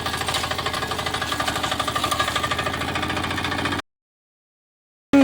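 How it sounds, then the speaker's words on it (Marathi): A Kirloskar power weeder's small engine running close by, loud with a fast even chugging pulse for almost four seconds, then cutting out abruptly into silence. "हे तुम्ही पाहू शकता की एका हातानंच मी हे विडर चालवत आहे"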